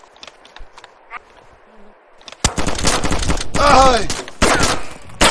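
Loud rapid gunfire from the video game DayZ Standalone erupts in dense bursts after a quiet stretch, and a voice shouts briefly.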